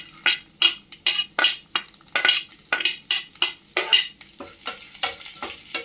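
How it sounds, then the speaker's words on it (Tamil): Chana dal, urad dal and dried red chillies frying with mustard seeds, with rhythmic scraping stirs of a spoon against the pan over a light sizzle, repeated strokes roughly every half second. "நம்ம வச்சுருக்க கடலைப்பருப்பு, உளுத்தம்பருப்பு, வரமிளகா எல்லாத்தையும் சேர்க்கலாம்."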